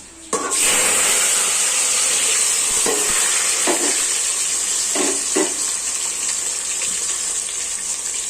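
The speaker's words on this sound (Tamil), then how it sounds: "இது வந்து நல்லா வதங்கட்டும், வெயிட் பண்ணலாம்" Steady, loud frying sizzle of onions and tomatoes in a hot pan, with occasional stirring scrapes and clinks over the continuous hiss.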